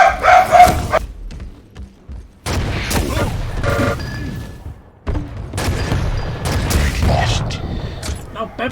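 Arena shooter duel gameplay with a railgun kill amid bursts of booming weapon fire and mechanical game effects, while a commentator talks over the action.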